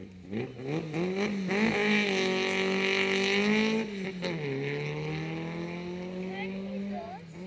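A VW Beetle drag car accelerates hard down a drag strip at a drag racing event in Bitburg, its engine note climbing loudly through the gears, then settling into a steady high drone with a commentator speaking over it.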